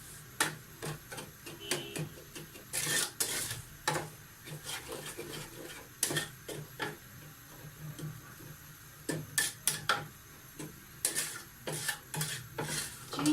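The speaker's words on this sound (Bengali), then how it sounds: "এখন এটা অনবরত নেড়ে যেতে হবে" Sweet pineapple pickle being stirred steadily in a pan, with repeated close scraping and tapping of the spoon against the pan in an irregular rhythm over a low background hiss.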